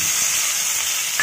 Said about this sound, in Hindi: कढ़ाई में 1 चम्मच घी ऐड कर रही हूँ, पनीर को भून लूँगी।